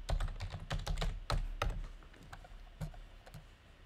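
Someone types an admin login and password on a computer keyboard. It comes across as a quick, irregular burst of close key clicks and taps that thins toward the end, with no talking.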